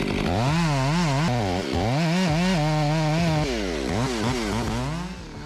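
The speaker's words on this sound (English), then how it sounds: "With an advanced chainsaw designed to handle ancient pine trees, the saw easily moves through dense wood." A chainsaw engine roars up close, its pitch wavering up and down as it bites into dense pine wood, loud and continuous.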